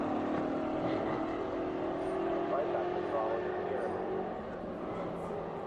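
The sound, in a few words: race car engine returning to throttle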